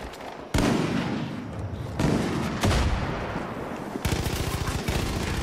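Gunfire in the video game Far Cry 5: loud, close bursts of shots, with a quick rapid-fire volley near the end and no talking.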